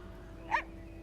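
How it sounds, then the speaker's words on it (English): A dog in the horse-riding video game Star Stable Online gives a single short bark, faint against a quiet background hum. "Doggy!"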